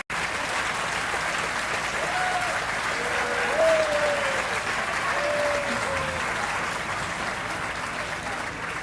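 An audience at a polo hall of fame induction ceremony applauds museum board members, a dense, steady wash of clapping that carries on for several seconds, with a few faint voices rising above it.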